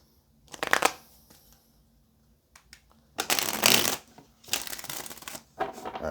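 Tarot cards being shuffled in several bursts of riffling and sliding, close and clear, separated by short quiet gaps.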